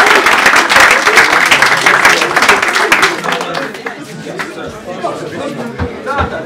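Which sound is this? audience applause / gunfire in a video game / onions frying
audience applause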